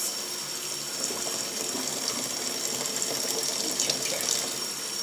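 Portabello mushrooms rinsed under a running tap, a steady close hiss of flowing water filling the whole stretch with small splashy variations as the ridged caps are washed.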